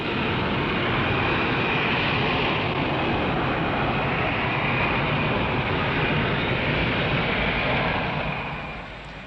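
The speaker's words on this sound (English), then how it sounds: "We are in the age of rocketcraft and of planes that need no runway to land or take off." A loud, steady roar from a vertical takeoff jet aircraft holds at full power throughout, with no voices, and eases off slightly near the end.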